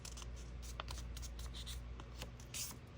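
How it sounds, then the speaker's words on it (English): A paper card for a graduation-cap project is folded diagonally corner to corner, giving soft, close rustles and creasing scrapes in short repeated strokes over a faint hum. "you're gonna fold this diagonal to diagonal"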